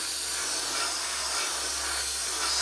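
An airbrush lays sea blue paint onto the wings and cowl of a Trumpeter 1/32 scale Corsair model, giving a steady, close, continuous hiss of air that holds level throughout with no talk over it.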